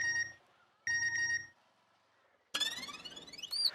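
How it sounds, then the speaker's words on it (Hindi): A telephone rings in a domestic sitcom scene, two separate electronic ring bursts with a pause between them, followed by a brighter sweeping tone toward the end; no one speaks over it. "फोन उठाइए"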